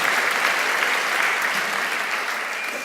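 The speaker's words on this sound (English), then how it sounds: "So give yourself a round of applause." An audience at a public dialogue applauds itself, a dense, even roll of many hands clapping that holds steady and tapers slightly toward the close.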